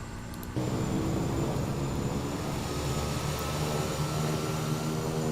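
Kodiak 100 single-engine turboprop starting up in a flight simulator, recorded from the real plane: a quiet hum jumps after half a second to a steady, loud droning engine tone that holds evenly, with no talk.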